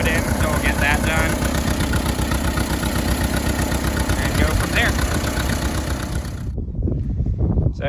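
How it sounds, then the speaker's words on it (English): An Allis Chalmers WD tractor engine idling to warm its oil before an oil change, a steady close chugging drone that cuts off abruptly near the end, with a few brief spoken words over it. "I let it run for a couple minutes to warm up the oil before I did an oil change on it."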